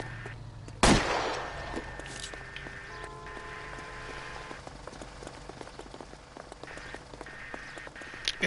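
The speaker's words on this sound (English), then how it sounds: "I thought if I shot a warning shot in the sky" Single gunshot fired into the air in L.A. Noire, a loud sharp crack followed by a rain-like crackling ambience with scattered faint clicks.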